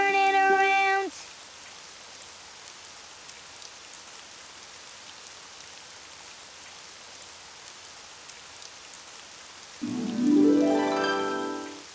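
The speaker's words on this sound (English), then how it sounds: "Oh, it's raining outside." Soft steady rain patters outside in a Daniel Tiger children's video game, a gentle hiss that runs through most of the clip. Short game music chimes open and close it.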